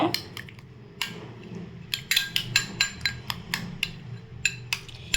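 A spoon clinks and scrapes against a bowl as bread and egg are mixed with masala, a run of sharp irregular taps and knocks that grows busier toward the end, with no talking.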